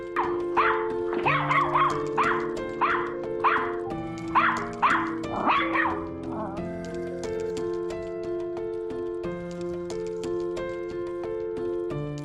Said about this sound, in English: the brave family dog noticed that there was danger and decided to help by stopping an upcoming car